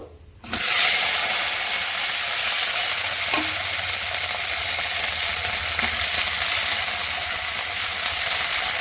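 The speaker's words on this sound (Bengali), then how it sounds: "কাঁচা লঙ্কাটা তেলের ওপরে দিয়ে দেবো" Slit green chilies dropped into hot oil with fried five-spice, for spinach chhechra, burst into a loud, steady sizzle after a brief quiet start, crackling continuously close by.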